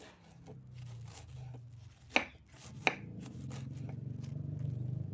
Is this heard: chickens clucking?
no